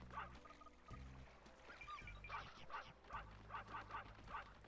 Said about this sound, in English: There's another dog here. We can fight that dog.